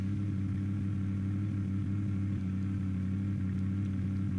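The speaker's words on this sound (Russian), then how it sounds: "Резвая машинка." A car engine in the survival game Unturned drones steadily at a constant pitch while driving, a loud, even hum with no revving changes and no voices.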